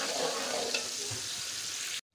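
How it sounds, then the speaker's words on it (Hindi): Chopped onions browning in a deep cooking pot (degchi) for chana pulao, giving a steady, close, dense sizzle that holds evenly for about two seconds and then cuts off abruptly. "एक देगची ले ली, उसमें प्याज शामिल करेंगे लाल करने के लिए, प्याज को ब्राउन करना है हमने"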